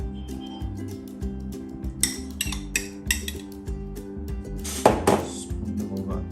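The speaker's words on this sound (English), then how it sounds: "Then we'll spoon over our seafood onto our bread gently." A spoon lifts seafood mix onto bread for a po' boy, giving light clinks and taps of utensil against dish and glass, close and intermittent, with one sharper scrape near the end, no talking.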